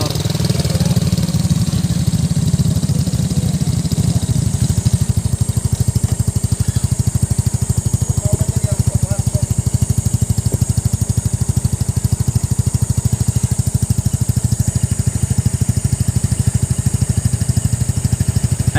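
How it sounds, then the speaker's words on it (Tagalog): Motorcycle engine running at a truck accident scene on a road in Pandi, Bulacan, as the bike edges through a narrow gap, a loud, steady, close-up idle and low-speed chug that continues for the whole stretch with no pause. "susubukan ni boss na dumaan kung kakasya yung motor"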